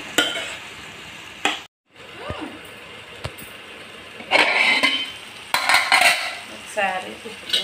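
A spoon scrapes and clinks against a pan as tomato curry is stirred while it cooks, with a low sizzle underneath and louder bursts of metallic stirring toward the end, near and without talk.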